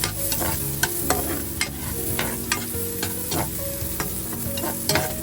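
Onion sizzling as it is sautéed in a pan, with a steady frying hiss punctuated by repeated sharp scrapes and clicks of stirring.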